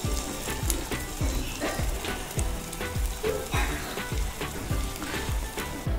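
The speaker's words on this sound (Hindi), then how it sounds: "इसके अंदर हम ये आलू डाल देंगे और इनको बहुत स्लो आंच पे हल्का सा भूनेंगे" Potatoes for Banarasi aloo roast gently in a pan over a low flame, making a soft sizzle punctuated by regular rhythmic stirring or scraping knocks, with no talking.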